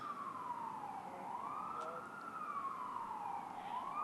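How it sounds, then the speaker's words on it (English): A wailing siren rises and falls steadily, fairly distant and continuous, with faint background noise and no clear talking. "There is more sirens."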